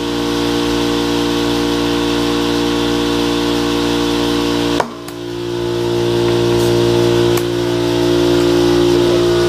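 Race car tire being inflated, a steady loud hiss of air that suddenly cuts with a sharp pop as the bead seats at the midpoint, then the hiss resumes and continues alone with a faint click later.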